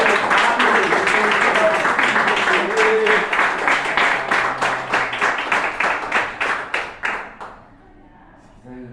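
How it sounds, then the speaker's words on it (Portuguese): A prayer meeting congregation claps in steady unison for Jesus, loud rhythmic claps over voices and background sound that thin out and stop after several seconds, leaving near silence. "dá uma grande salva de palmas para Jesus"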